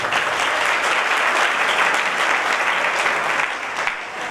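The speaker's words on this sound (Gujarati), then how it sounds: "તો આપણી તાળીઓ થોડીક વધી" An audience at a Swaminarayan religious gathering in a Gujarat village claps together in steady, dense applause that holds evenly for several seconds and then eases slightly.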